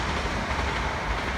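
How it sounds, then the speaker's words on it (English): A train passes on a nearby railway, a steady broadband rumble with a dense low roar holding level and close throughout the short stretch. "There you go, there's the train."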